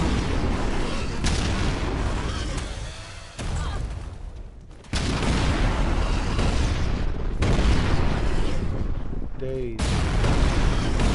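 Grenade explosions in a PS4 video game, heavy booms and rumbling blasts recurring across the stretch with short gaps, and a voice talking briefly over the action.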